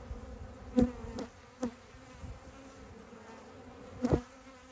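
A steady low buzzing of honeybees hums throughout, with a few sharp knocks and taps standing out now and then as a hive frame is handled.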